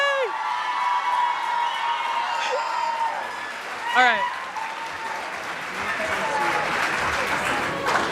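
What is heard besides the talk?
concert audience applause and cheering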